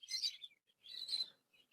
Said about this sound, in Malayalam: കോഴികളുടെ ബഹളം